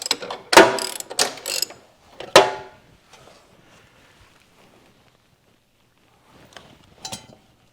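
A ratchet wrench with a 3/4-inch deep socket clicks on a Cub Cadet 1872 lawn tractor's rear end: several quick, loud ratcheting bursts close up, a long quiet stretch, then a fainter short burst near the end.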